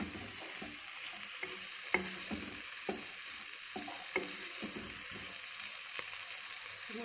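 Chicken sizzles steadily in a pan for spicy macaroni while a spoon stirs it in regular scraping strokes, with no talking over the sound.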